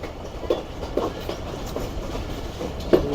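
Jaffer Express passenger train hauled by a Chinese locomotive rolling slowly into a far corner platform at a station, with steady distant rumble and soft clickety-clack of wheels over rail joints, occasional sharper clanks, no one talking.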